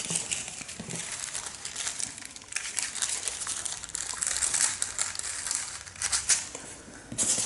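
A large paper tattoo stencil is cut, producing continuous close crinkling and rustling with brief scraping bursts throughout.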